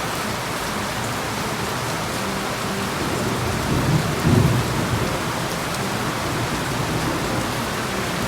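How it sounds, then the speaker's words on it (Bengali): Heavy rain pours steadily, with a low roll of thunder swelling briefly in the middle and then fading back under the constant hiss of the downpour. "বাসায় গিয়েই দেখি বৃষ্টি, কি যে সুন্দর হয়ে গেল ওয়েদারটা"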